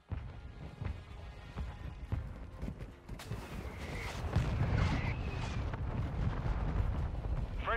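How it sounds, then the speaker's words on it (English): Mortar strike explosions in a Call of Duty game: heavy, rumbling blasts that overlap and grow denser and louder through the second half, with sharp crack-like bursts mixed in. "Friendly mortar strike inbound."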